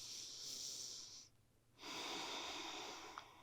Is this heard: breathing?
yes